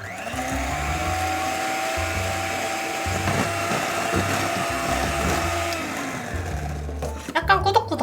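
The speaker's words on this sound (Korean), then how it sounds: "노른자가 뽀얗게 색깔이 밝아질 때까지 휘핑을 쳐주는 거예요" An electric mixer whips egg yolks with sugar for génoise batter, a steady whirring drone that holds throughout, with a brief clatter near the end.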